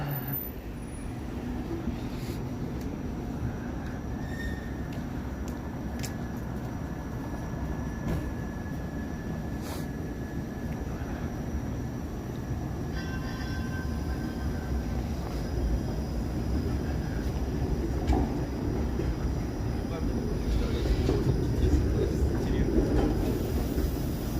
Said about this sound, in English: Another streetcar making a turn.